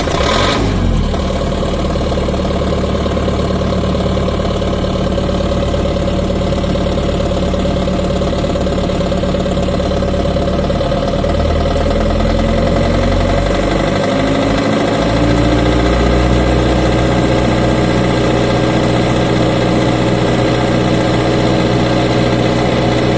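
A 440-volt engine-driven unit is started manually and settles into a loud, steady idle with a constant hum and vibration, its pitch shifting slightly partway through, with no talking over it.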